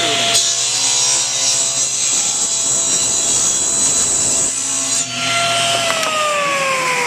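A table saw rips through a wooden board, a loud continuous whine with the blade grinding through the cut, briefly dipping near the end as the board clears and the blade spins on.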